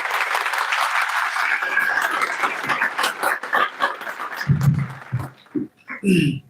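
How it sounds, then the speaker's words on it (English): Audience applause welcoming a guest onto the stage at a university alumni meet in Mumbai, a steady clatter of many hands that thins out toward the end, leaving a few scattered claps and brief voices. "So let us welcome him with a big round of applause."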